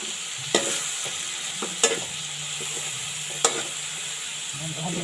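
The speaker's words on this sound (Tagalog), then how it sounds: "Haluin lang natin siya para maluto kagad" Vegetables for bihon guisado are stirred as they fry in a pan: a constant sizzle with a few sharp utensil clacks against the metal, close and clear, no talking.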